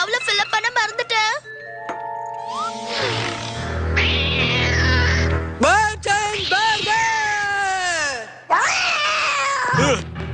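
A cartoon cat from the animated series Kid vs. Kat lets out a run of exaggerated meows and yowls, loud and close, broken up by tonal musical sound effects and brief pauses.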